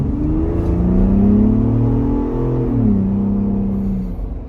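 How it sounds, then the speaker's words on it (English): A Ford Bronco Raptor accelerates with a steady, rising engine drone and exhaust note, one smooth pull that eases off near the end, close and fairly loud with no talking. "Not a bad little exhaust note. Notice that you can hear the turbo whistle pretty decent."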